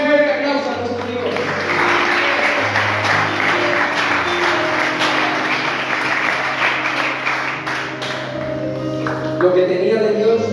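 Church congregation giving a strong round of applause to God, with clapping sustained over organ or keyboard chords and other voices in the room, the music staying prominent beneath the applause.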